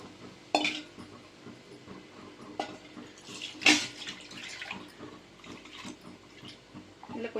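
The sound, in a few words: water being poured into cooking pot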